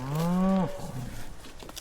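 A cow in a pasture lets out a single long, loud moo close by, holding steady before breaking off, followed by quiet outdoor background sound.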